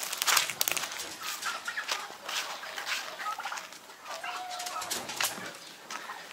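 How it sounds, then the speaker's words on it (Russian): Several chickens cluck and chatter close by in a busy, irregular stream of short calls, with no one talking. "Пойдем кур кормить"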